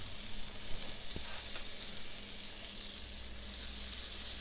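Butter pads and extra virgin olive oil sizzle steadily in a pan over medium heat, a continuous bright hiss that swells slightly toward the end, with a faint clink partway through.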